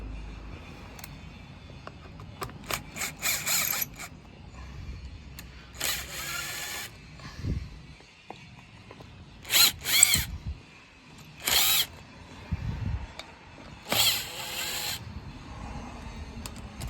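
A power tool whirs in short bursts while undoing screws on a boiler flue during a Worcester boiler install, with several brief close drill runs separated by pauses and quieter handling clatter.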